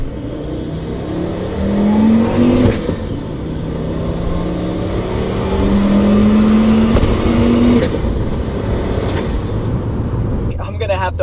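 A turbocharged five-cylinder Volkswagen engine revs and accelerates steadily with a rising whine, pulling hard through gears, loud and close throughout.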